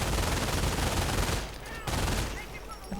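MG42 machine gun fire in a World War II strategy video game, a dense rattling burst of rapid shots that eases off briefly and then resumes, loud among other battle noise.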